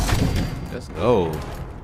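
An automatic plasma rifle fired in the video game Fallout 76, a short rapid burst of shots at the start followed by a single warbling energy zap, close and loud, with a voice speaking during the clip.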